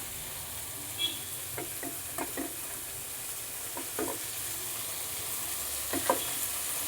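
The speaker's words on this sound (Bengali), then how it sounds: "ওই জন্য আগে আমি সবজির সাথে একটু নেড়ে নিলাম" Fried vegetables with coriander leaves stirred in a pan, a soft, steady frying hiss with a few quiet scraping strokes of a spatula spaced out across the stretch.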